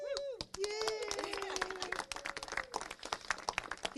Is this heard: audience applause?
yes